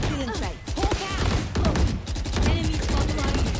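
Rapid gunfire in the game Valorant, dense bursts of sharp shots stacked closely together, loud and close, with a player's voice breaking in over the firing.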